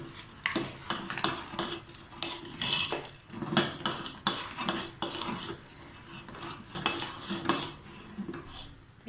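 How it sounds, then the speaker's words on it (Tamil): A spoon stirs custard milk with added sugar in a metal pot, making a run of quick, uneven clinks and scrapes against the sides, close and moderately quiet. "நல்லா கலக்கி விட்டுருங்க."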